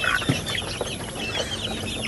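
Pet chickens cluck softly close by while being fed, with short scattered calls over a low background murmur.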